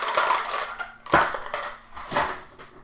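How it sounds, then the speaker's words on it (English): Ice cubes tumble into a glass for a gin drink in a few separate clattering bursts, crisp rattles and clinks spaced about half a second apart, up close. "Fill up with ice"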